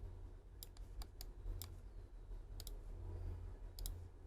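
Soft, quiet keyboard clicks as shortcut keys are pressed while working in CATIA, a handful of scattered taps and short double presses over a steady low background hum.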